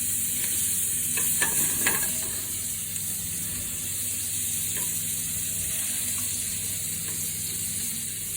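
Shrimp risotto fries in a pan on a stovetop, a soft continuous sizzle with a few brief stirring scrapes near the start, then a steady even hiss.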